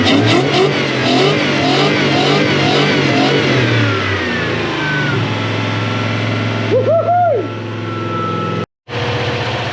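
Mk1 Ford Cortina with a 1UZ-FE 4 litre V8 runs loud and close, a steady rumbling idle with blips of revving that settles lower, then cuts out briefly before resuming.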